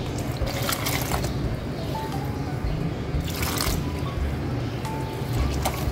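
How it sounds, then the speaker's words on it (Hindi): Flour dough being kneaded by hand with water added a little at a time for Turkish pide, giving a steady close run of wet squishing, slapping and sticky squelches with no talk. "फिर इसमें हम थोड़ा थोड़ा पानी डाल के इसको गून लेंगे"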